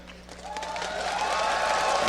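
A crowd cheers and applauds for World Elite at the League of Legends World Championship quarter-final, the roar building steadily louder over two seconds, heard from within a large arena.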